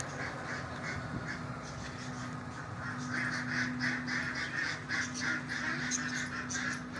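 Ducks and similar waterfowl at a small pool quack and honk in a steady stream of repeated calls at moderate distance, over a constant low hum.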